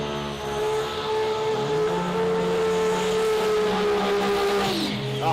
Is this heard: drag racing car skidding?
yes